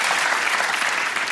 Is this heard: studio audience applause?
yes